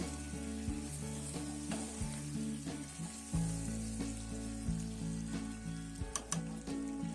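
Chicken pieces with elephant foot yam frying in a pot, a steady loud sizzle with occasional stirring scrapes and faint background tones throughout.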